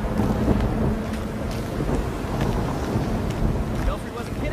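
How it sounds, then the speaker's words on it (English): Storm wind and thunder in the Gotham Knights video game: a loud, steady roar of wind with rumbling swells that fills the whole stretch without a break. "Belfry wasn't kidding about this storm."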